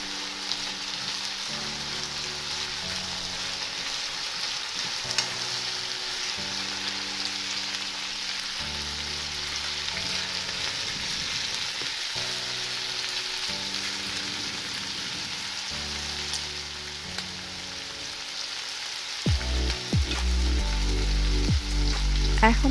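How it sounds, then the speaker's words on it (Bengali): Onion fries in a pan for a Bangladeshi restaurant-style Chinese vegetable dish, producing a continuous sizzling crackle beneath steady background music, with no speech. "এবার আমি তাতে দিয়ে দেব পেঁয়াজটাকেও আমি 1 মিনিট ভেজে নেব।"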